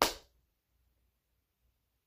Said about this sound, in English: All right, so like a clap.